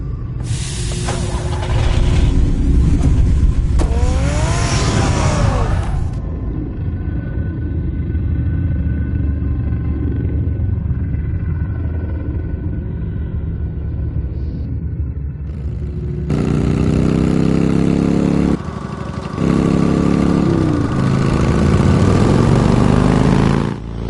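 A car engine in the video game Batman The Telltale Series rumbles and revs steadily for a long stretch, with louder surges of accelerating engine noise at the start and toward the end.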